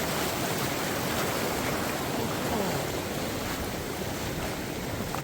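Bouillon Creek, a braided backcountry creek in Kluane National Park, rushes in a steady, dense wash of flowing water close by, continuous and broadband with some wind buffeting, with no voices.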